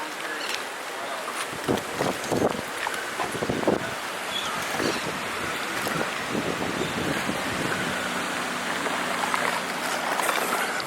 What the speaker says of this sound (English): And the wind's a minor thing right now